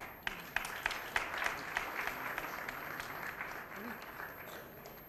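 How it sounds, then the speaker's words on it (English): An audience claps at a press conference on colorectal cancer, steady applause with sharp individual claps standing out near the start and then settling into a softer wash, with faint voices underneath. "I think the clap should continue."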